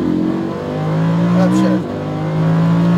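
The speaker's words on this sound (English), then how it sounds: "Squeeze the throttle, open the wheel out to the right, squeeze the throttle, you go full throttle." A Lamborghini Huracan on a race track pulls at full throttle, its loud engine droning steadily with a brief pitch dip near the end as revs shift, while an instructor's voice talks over the roar.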